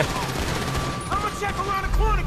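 Rapid AK machine gun fire in Grand Theft Auto V, a dense continuous rattle of shots filling the clip, loud and busy, with game sound effects whistling over it.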